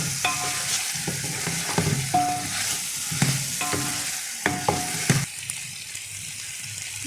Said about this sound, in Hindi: अब मैं इसके अंदर डाल दूंगी सब मिर्चें और इसे हिला लूंगी।